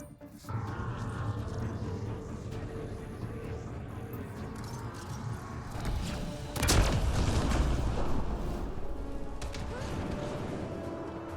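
Explosions boom in Mass Effect Andromeda, with a steady din of gunfire and blasts and a heavier close burst in the middle, while people talk over the game sound.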